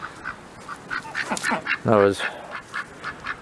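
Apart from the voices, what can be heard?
ducks quacking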